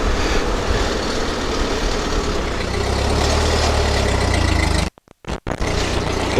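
A machine running its hydraulics with stiff, long-unmoved hydraulic fluid produces a loud, steady engine drone and strained hum, which cuts out abruptly near the end with brief bursts and then resumes.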